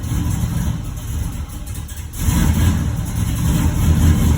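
LS-swapped Impala SS V8 idling while warming up on a cold day, a steady close low rumble with a slight swell in level partway through.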